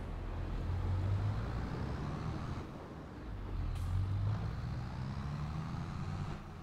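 Low rumble of cars and heavy vehicles approaching on a dark road in Farming Simulator 22, a steady engine drone with swelling passes and a faint hiss near the end, no voices.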